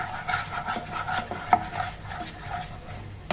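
Leftover-rice halwa with caramelized sugar is stirred in a pan, making a steady, soft scraping and rubbing with a faint sizzle and an occasional light clink of the utensil, heard up close without talk.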